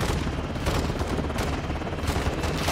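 Dense, loud gunfire in a Call of Duty: Modern Warfare campaign mission, with overlapping shots and booms forming a continuous roar of combat and no voices.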